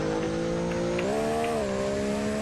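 A Formula racing car engine in a video game, a steady high-pitched whine that shifts upward in pitch partway through, continuous and close, with no voices.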